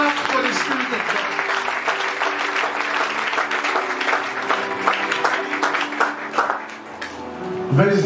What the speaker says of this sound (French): Can we clap for the Spirit of God?